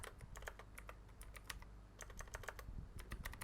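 Rapid clatter of computer keyboard keys being typed while entering dialogue text for a Minecraft custom NPC quest, a steady run of close, crisp keystrokes with a soft background hum and no talking.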